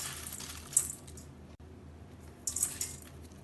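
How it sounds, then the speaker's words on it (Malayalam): Bare hands mix cut cabbage with salt in a bowl for kimchi: soft, quiet wet squishing and rustling, with a couple of brief crisp crunchy bursts. "ഈ കാബേജും ഉപ്പും കൂടെ നല്ലോണം കൈകൊണ്ട് മിക്സ് ചെയ്യാം."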